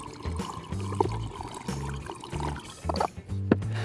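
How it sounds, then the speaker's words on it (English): Hot liquid is poured into a container while making a ginger honey mead, giving a soft, close splashing trickle that runs steadily and then briefly surges. "when I pour that hot liquid in there, we don't crack it"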